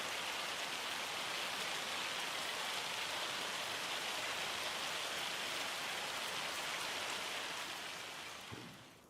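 Rain in the Farming Simulator 25 video game, a steady dense hiss of falling drops that holds evenly for several seconds and fades slightly at the end, no voices.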